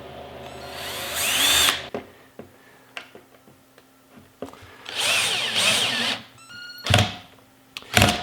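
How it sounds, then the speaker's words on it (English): A power drill drives screws into a plywood board, whirring loud and close in two main bursts with a brief final spin. Sharp clicks and taps fall in the quieter gaps between them. "But first let me screw this in place."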